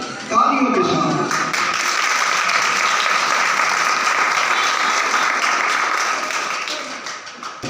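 A church congregation at a pastor's gathering breaks into dense, sustained applause that starts abruptly after a brief voice and holds steady for several seconds before easing slightly at the close.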